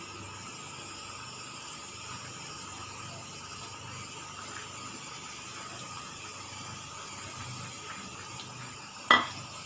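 A pot of fish fry curry simmers with a steady bubbling hiss throughout, with a brief clatter near the end as the fish is dropped into the pot.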